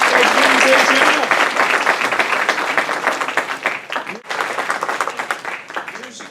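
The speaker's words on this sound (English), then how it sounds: "Let's give them a big round of applause." A high school audience gives a big round of applause for an award-winning band, steady and loud from start to finish, with crowd noise mixed in.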